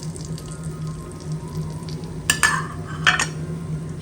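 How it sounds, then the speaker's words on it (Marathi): Tempering spices fry gently in oil over a slow gas flame, a low steady sizzle with two brief brighter crackles of stirring or added ingredients. "आता आपण आपले तडक्यासाठी हे सगळे सामग्री टाकून घेऊ, हे बघा, आणि एकदम स्लो फ्लेमवर आपण गॅस ठेवू,"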